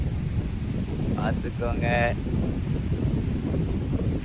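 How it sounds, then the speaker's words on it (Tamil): Strong wind roars steadily around natural hills near Coimbatore, a constant loud rumbling gust buffeting the microphone while a person speaks briefly over it. "அடிக்கிற காற்று என்னையவே தூக்கிட்டு போயிரு மக்களே"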